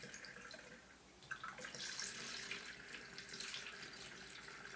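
Liquid pours through a funnel into a small 1-liter barrel, a steady close splashing trickle that swells briefly partway through, with no talking.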